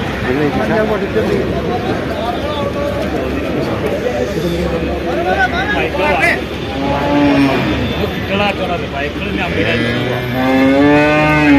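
Buffalo low and bellow as they are loaded into a vehicle at a cattle market, amid a noisy crowd of shouting voices, with an engine rumbling steadily in the background.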